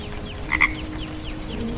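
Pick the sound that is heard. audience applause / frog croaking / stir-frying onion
frog croaking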